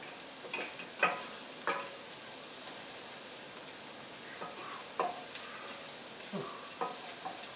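Garlic frying in a pan for refried beans gives a quiet steady sizzle, broken by a few short clicks and stirring scrapes, close and alone.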